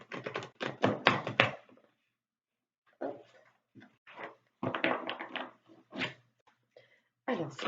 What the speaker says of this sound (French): Je vais mélanger un petit peu les cartes.